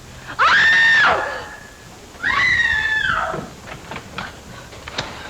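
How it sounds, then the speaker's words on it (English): A person lets out two long, loud, piercing screams a moment apart, followed by fainter scattered knocks and rustles. "Who screamed?"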